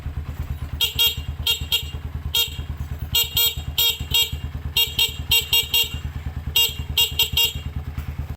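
A motorcycle engine runs steadily up close, its low rumble continuous beneath repeated bursts of loud horn honks in rapid clusters.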